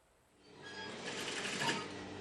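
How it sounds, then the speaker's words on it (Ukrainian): A sewing machine in the corner of a room starts up and runs steadily with a soft, fast whirring stitch, fairly quiet and close, with no talking. "Інна Корчак примостила швейну машинку в кутку кімнати."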